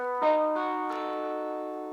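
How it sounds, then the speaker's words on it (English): A single strummed guitar chord rings out clearly, its harmonics sustaining and slowly fading over two seconds, with a brief second strum partway through. "A seventh chord sounds like this."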